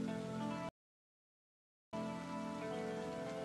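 Rain falls in a Honkai Star Rail trailer for the character Acheron, a quiet steady patter mixed with soft music, cut by a sudden second of total silence before resuming.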